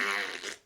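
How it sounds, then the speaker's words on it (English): A short, loud, buzzy fart sound effect, close and alone, lasting under a second and trailing off at the end. "We'll do a fart sound anyway."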